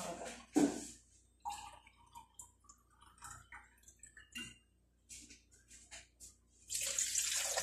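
Water poured into a pot while cooking a creamy dish, heard as intermittent splashing and trickling bursts in a quiet kitchen, ending with a louder, sustained pour.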